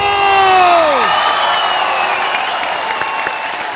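A studio audience on a comedy talk show cheers and applauds as superstar Salman Khan is welcomed, loud and dense, with whoops and shouts rising over a sliding synthetic stage sound effect before settling into sustained crowd noise.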